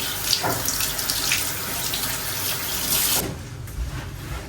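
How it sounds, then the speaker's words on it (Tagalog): Tap water runs steadily into a sink as a fish fillet is rinsed, loud and close for about three seconds before dropping to a softer, thinner flow. "At hugasan natin yung filet."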